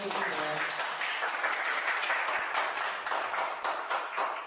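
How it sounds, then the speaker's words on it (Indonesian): A high-school art class in Indonesia applauds a student, steady broadband clapping from many hands sustained throughout, with faint voices mixed in. "Kita berikan aplaus dulu untuk"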